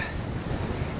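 Strong coastal wind on a South Wales shoreline buffets the microphone in a constant low roar, blending with the rush of surf and sea, with no voices.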